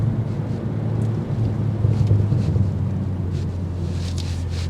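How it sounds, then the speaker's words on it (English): A twin-scroll turbo on a 2024 BMW M340 whooshes faintly under a steady, loud engine and road drone inside the moving car, with wind-like rumble throughout. "Twin scroll turbo, you can hear it just filtering in."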